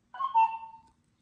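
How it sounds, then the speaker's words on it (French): A single short electronic beep from an ieGeek Baby 5 baby monitor camera, clear and close, fading out quickly in an otherwise quiet room. "On a entendu le petit bip."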